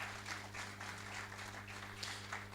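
Faint applause from an audience, a steady patter of many hands clapping together.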